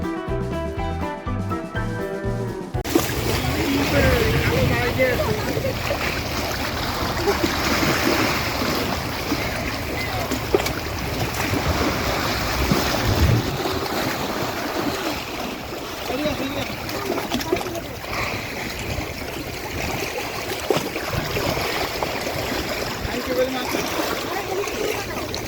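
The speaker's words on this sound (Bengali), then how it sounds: "সমুদ্রের ঢেউগুলো পাথরের উপর আছড়ে পড়ে যে শব্দ সৃষ্টি হচ্ছিল" Black Sea waves break on rocks along the shore at Samsun, Türkiye, a steady, loud wash of surf and splashing water that continues throughout, after a brief tonal sound at the very start.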